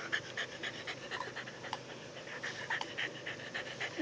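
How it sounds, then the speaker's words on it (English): A young puppy pants steadily up close, with quick rhythmic breaths and a few faint whimper-like sounds, and no talking. "Puppy's here, Yogi."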